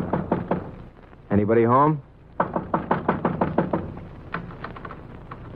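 Knuckles rap a small wooden shed in a radio drama effect: two loud clusters of close, rapid knocks split by a spoken call, with quieter knocks trailing off.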